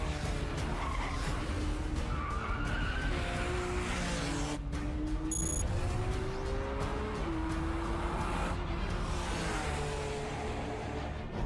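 A supercar with a rear-mounted engine revs hard under acceleration with rapid automatic gear changes, a loud continuous engine roar with stepped pitch rises and drops, accompanied by tire skid noise throughout.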